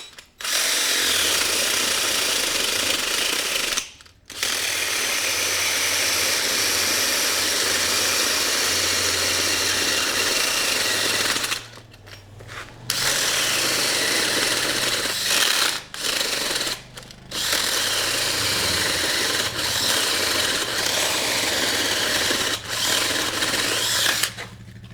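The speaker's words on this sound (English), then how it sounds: "the DeWalt, speed 3, drill mode, and let's try to drill right next to" A DeWalt cordless drill in drill mode at speed 3 bores a hole with a loud, sustained motor whine that runs for long stretches and cuts out briefly several times before resuming.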